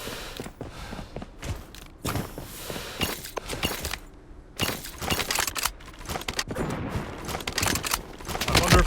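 Minigun fire in a video game: dense, rapid bursts of gunfire with sharp impact cracks that keep coming in waves, loud and close throughout.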